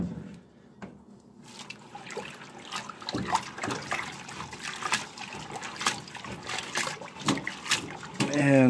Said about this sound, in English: we will wash them, float the seed hulls out, and I'll just move them around a bit